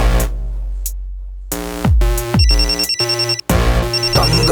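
A telephone ringtone repeats several times at close range, a loud electronic ring with short gaps and no talking over it.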